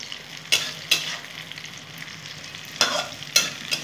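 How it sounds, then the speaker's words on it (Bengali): Green chillies stirred into eggplant frying in fish oil: a steady sizzle under several sharp scrapes of a spatula against the pan, two near the start and three toward the end. "দুটো কাঁচা লঙ্কা দিয়ে দিলাম, নেড়ে দেবো।"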